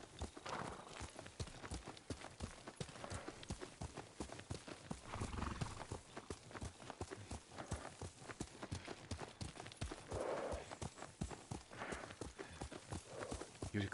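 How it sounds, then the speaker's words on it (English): Rhythmic clip-clop of a horse's hooves with repeated neighing and whinnying, from the samurai video game Ghost of Tsushima; the hoofbeats are steady and fairly close, with no talk over them. "Yuriko's horse. She can't be far."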